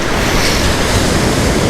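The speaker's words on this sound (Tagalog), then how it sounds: "gusto ko lang subaybayan kung hanggang saan tong alon na to kapag ka nag-high tide" Ocean waves wash continuously onto a shore at high tide in Japan, a loud, dense roar of surf mixed with wind buffeting the microphone.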